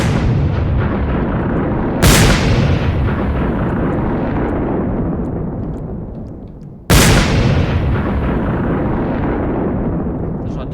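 Two heavy explosions boom out in a GTA RP game scene, each a sudden loud blast followed by a long rumbling decay that fades over several seconds.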